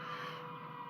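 Ambulance siren heard as a steady, sustained tone from outside a 2010 Dodge Challenger R/T, fairly faint and continuous over road noise.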